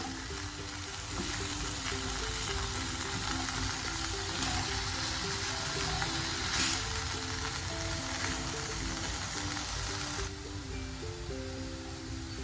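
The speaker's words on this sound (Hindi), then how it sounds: "अब इसमें डालेंगे हम चिकन। दो मिनट के लिए हम इसको फ्राई करेंगे।" Chicken frying in a pan, a steady close crackling sizzle that runs unbroken throughout with faint stirring.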